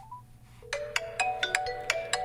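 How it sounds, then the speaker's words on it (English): Ringtone from an incoming test call on a Honor Magic V5 foldable phone, a clear repeating electronic melody with regular pulsed notes, close and alone over a quiet background. "Let's do a little test phone call from one of my trap numbers."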